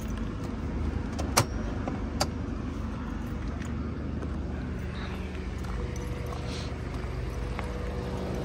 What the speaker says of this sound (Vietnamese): Đây em sẽ mở máy và cho các bác xem máy đây.